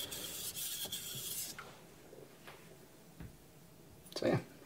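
A knife is sharpened on a Naniwa Pro 1k Japanese whetstone, giving a few soft, close scraping strokes amid quieter gaps, with a louder grinding pass near the end.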